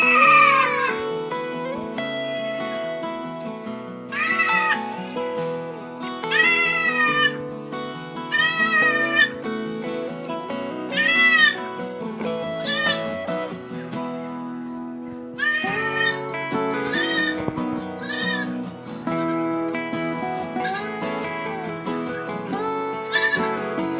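A one-month-old baby goat bleats repeatedly, with loud, close, wavering cries in a string of calls separated by brief pauses.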